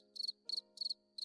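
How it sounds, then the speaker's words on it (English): Crickets chirping in steady bursts, four quick trilled pulses repeating at regular intervals, close and clear over a faint low hum. "there is a sound for lacuna. We already know it. It's just crickets"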